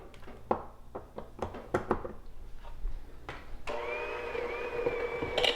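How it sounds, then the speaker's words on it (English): A small electric hand mixer whips peanut butter cake batter: first a few sharp knocks and taps, then a steady whirring motor hum that runs to the end, with no talk over it. "Got our handy little mixer."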